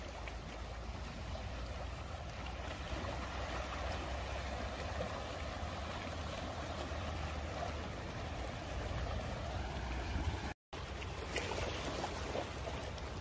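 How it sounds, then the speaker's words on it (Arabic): Sea waves at a beach in Khor Fakkan, a steady broadband wash of surf that stays close and loud throughout, with a momentary dropout near the end. "لو يعني الانسان يجلس امام البحر ويسمع صوت الموج"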